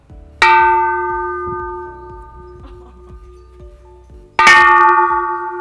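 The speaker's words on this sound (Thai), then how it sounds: "ก็เลยแบบให้มันดูยิ่งใหญ่เราก็มาตีระฆังกันหน่อยดีกว่า" A large bell is struck twice, about four seconds apart, during a trip along the Thonburi canals. Each loud, clanging strike is followed by a long ringing hum that slowly fades, with no voices.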